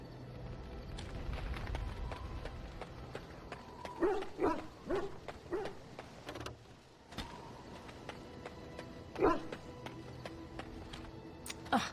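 A dog barks in the fantasy role-playing game Dragon Age: Origins. Several short barks come in a cluster mid-clip and another follows later, moderately loud over a busy game soundscape with clicks and ambient noise.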